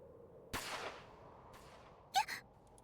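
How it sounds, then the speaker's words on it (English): A single sharp gunshot crack from the visual novel game Chaos;Head Noah rings out and fades quickly. Fainter whooshing follows alone in a quiet scene. "A gunshot tore through the dark night."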